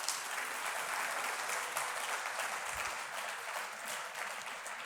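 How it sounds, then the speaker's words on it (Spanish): Sustained, strong applause from a conference audience fills the room as a dense, even wash of clapping, steady for several seconds with no talk over it. "Otro aplauso fuerte."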